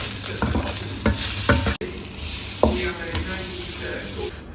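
Rice fries in a pan with a steady sizzle, interrupted by several scraping stirs of a utensil against the pan, heard up close.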